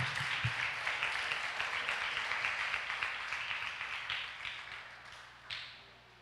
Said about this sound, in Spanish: Aplauso a Dios porque Él merece la gloria